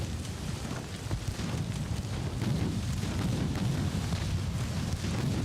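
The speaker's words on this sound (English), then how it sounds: "a nice hit here on the Neptune amidships with that second torpedo" A torpedo strikes a warship amidships in Ultimate Admiral: Dreadnoughts, heard as a deep, rumbling roar of explosion and churning sea that swells and lingers, with no voices present.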